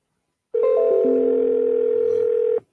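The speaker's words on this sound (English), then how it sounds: "We hear the ringing" A steady electronic ringing tone on a radio sports phone-in line, one continuous loud tone holding for about two seconds before cutting off, with no talk over it.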